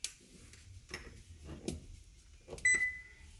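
A kitchen stove oven being switched on, giving a short electronic beep after a few soft clicks and taps, close by and fairly quiet.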